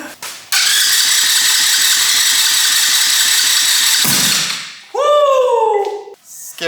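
A fuel-injected 125cc turbocharged go-kart engine starting: rhythmic cranking chugs for several seconds, then it fires and roars loudly, followed by sweeping revs that rise and fall as the throttle is blipped.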